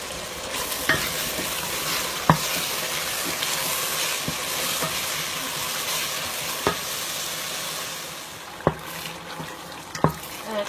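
Ghanaian fish stew fries in a pot while all-purpose seasoning is stirred in, a constant close sizzle broken by occasional sharp spoon knocks against the rim.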